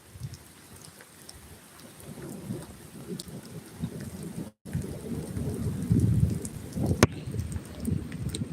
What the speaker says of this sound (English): Oh, we're getting rained on today.